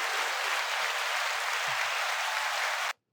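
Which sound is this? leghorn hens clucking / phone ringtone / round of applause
round of applause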